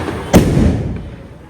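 Single firecracker bursting during Diwali celebrations, a sharp loud crack with a lingering rumble that fades over about a second, close by amid outdoor background noise.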